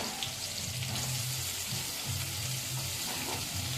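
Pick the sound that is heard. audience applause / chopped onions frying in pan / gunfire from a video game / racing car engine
chopped onions frying in pan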